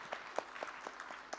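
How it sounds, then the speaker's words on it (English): Panel audience at a climate-justice education event giving a brief round of applause, scattered distinct claps from a small group, fairly faint and sparse. "Let's clap for these amazing responses."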